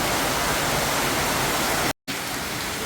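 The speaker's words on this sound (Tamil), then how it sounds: "கண்டினியூஸாக வந்துகிட்டே இருக்கு, ஸ்டாப்பே ஆகலை இன்னும். சரியான மழை." Heavy continuous rain in Goa, a dense steady roar of downpour filling the space evenly and loudly, with a very brief cut near the end before the same rain resumes.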